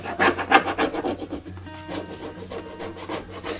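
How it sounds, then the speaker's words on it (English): An IOD transfer being rubbed down onto a furniture piece with firm pressure. Close, rhythmic scratchy rubbing strokes repeat quickly, louder at first and then lighter, with no talk. "And then you're going to get it down and again apply with rubbing pressure"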